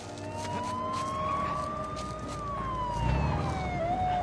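Police sirens in the video game Uncharted 4 wail continuously in the distance, their pitch rising and falling, over a low rumble of traffic.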